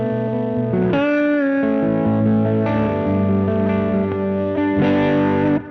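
Lap steel guitar played through distortion, its tone breaking up into gritty, sustained chords and sliding notes that ring out loud and alone, with a brief pause between phrases.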